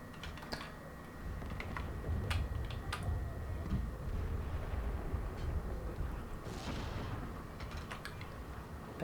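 Battle din from the Steel Division 2 video game, a dense, steady rumble of gunfire and artillery with sharp reports cracking through at irregular moments, loud and continuous throughout.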